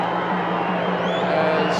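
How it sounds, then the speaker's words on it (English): A stadium crowd at a 1996 AFL match between West Coast Eagles and Geelong Cats hoots and roars in a dense, continuous wall of voices, swelling slightly toward the end. "And the crowd are hooting"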